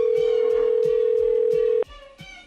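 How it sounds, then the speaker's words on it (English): A telephone call to the post office rings through the handset as one loud, steady electronic tone that holds for almost two seconds and then cuts off abruptly, followed by a brief click. "It's ringing."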